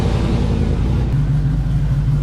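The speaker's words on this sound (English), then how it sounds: "Now I'm going to get the Jeep pulled in the garage." A Jeep Wrangler pulls slowly into a garage, its engine a low, steady rumble with a mild hum, close by and continuous, with no clear revving.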